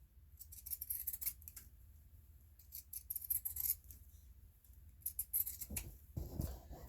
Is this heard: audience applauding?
no